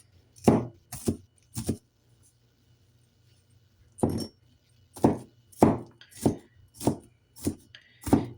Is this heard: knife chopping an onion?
yes